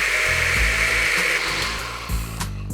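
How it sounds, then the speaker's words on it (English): A blender whirring as it purees basil vinaigrette, a loud, steady motor drone with slight changes in pitch as the contents spin, close up and with no talking. "Wanna put the tender basil in the blender."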